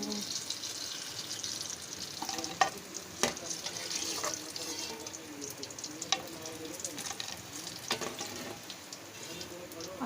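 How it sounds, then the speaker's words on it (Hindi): Pakoras going into a kadai of hot oil fry with a steady bubbling sizzle, punctuated by a few sharp clinks and scrapes of a utensil against the pan. "अब हम इसमें और पकोड़े डालेंगे कढ़ाई में।"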